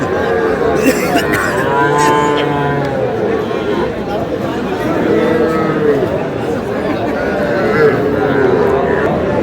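Young bull calves low and moo repeatedly amid a busy crowd, with many people chattering and haggling around them at the Aftabganj cattle market.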